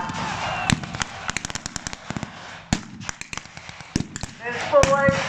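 Blank rifle shots crack repeatedly from troops at a military reenactment battle, irregular sharp reports near and far in quick succession, with a voice talking over them.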